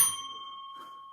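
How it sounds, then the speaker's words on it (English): A single strike of a small podcast desk bell, a bright metallic ding that rings out with a long sustained tone, heard alone. "The element is my bell."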